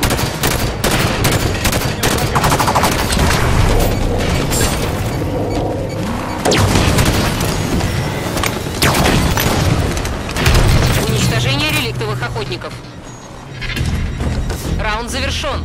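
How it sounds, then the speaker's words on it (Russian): Gunfire and explosions from the Halo 5: Guardians Warzone Firefight mode: dense, continuous booms and rapid weapon fire with blasts throughout, loud and close, mixed with game voice callouts. "Выстрел Элита задел!"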